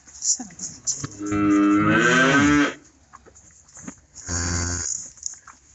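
Two loud, close cow moos: a long, wavering bellow followed after a pause by a shorter, lower one.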